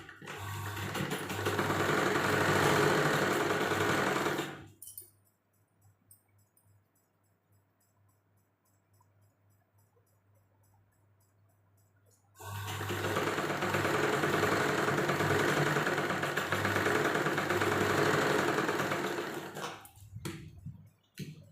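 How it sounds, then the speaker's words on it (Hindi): Close and loud, a sewing machine stitches the second sleeve of a simple size-38 kurti in two long continuous runs of steady motorized whirring, separated by a quiet pause of several seconds, with brief handling noises at the end. "इसको बराबर रख के हम सिलाई लगा लेते हैं।"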